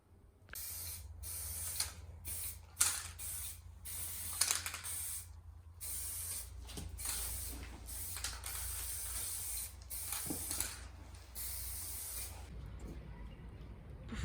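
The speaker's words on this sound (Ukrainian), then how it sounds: "Зараз буду їх фарбувати з балончика." A spray paint can coats candlesticks gold in a series of hissing bursts of varying length, separated by short pauses and occasional clicks from the can, close up.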